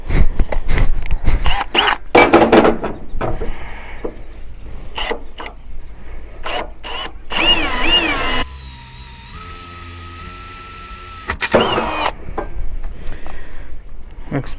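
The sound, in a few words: drill boring a pilot hole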